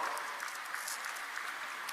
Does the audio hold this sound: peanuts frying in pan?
no